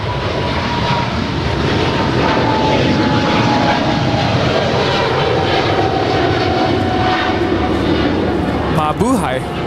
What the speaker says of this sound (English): Philippine Airlines is now rolling on 25 right